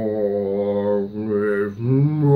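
A man hums a low, sustained, eerie droning tune imitating the unsettling piano-like theme from the film Eyes Wide Shut, holding steady pitches before sliding up into a higher note, loud and close with no other sound.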